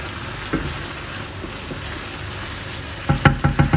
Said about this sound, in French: On fait flamber notre préparation